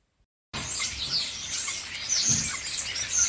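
Several birds chirp and sing in a steady springtime chorus, bright overlapping calls continuing throughout at moderate distance with no talking.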